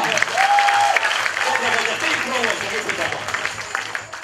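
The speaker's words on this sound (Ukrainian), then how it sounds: "Аплодуємо, аплодуємо!" Audience applause at a New Year KVN comedy show warm-up, a loud burst of clapping and crowd noise that tapers off gradually over a few seconds, with voices mixed in.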